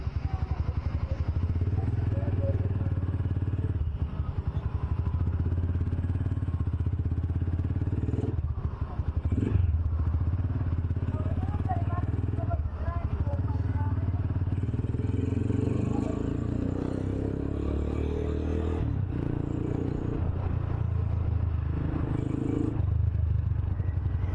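A motorcycle with an aftermarket Akrapovic exhaust running steadily at fairly low revs around a subdivision, a mellow exhaust rumble that rises slightly mid-way, with occasional clatter and faint speech.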